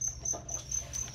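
Crickets kept as cat food chirp indoors in a steady, evenly spaced series of high, thin trills, close and moderately loud over a low background hum.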